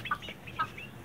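A couple of short, soft clucks from chickens, brief and fairly quiet.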